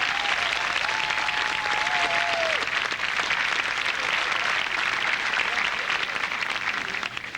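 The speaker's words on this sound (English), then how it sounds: "I think physical plan and housekeeping are entitled to a special round of applause for all that." Graduation ceremony audience gives steady, dense applause for the grounds and housekeeping staff, a full hall of clapping that holds evenly throughout with a faint whistle near the start, no talking over it.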